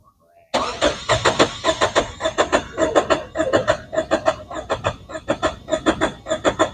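An engine cranks steadily on the starter during a relative compression test with an AT210 GTS plus scan tool, giving a loud, even chug of rapid compression pulses throughout after a brief quiet start.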